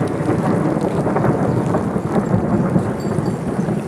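Heavy thunder rolls through a rainstorm near a small canal, a loud continuous rumble blending with the dense hiss of falling rain.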